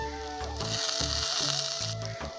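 Spices hiss and sizzle as they go into onions already fried deep red in a pan of hot oil for a light rohu fish curry, a steady close crackle with faint tonal hum behind it.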